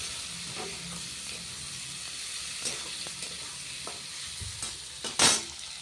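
Onions sizzle in hot oil with bay leaf and cumin as the base of a Bengali fish curry, a constant frying hiss broken by scraping stirs and a sharp burst of spattering near the end.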